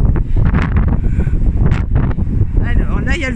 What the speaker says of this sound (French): Alors là, il y a le vent qui me pousse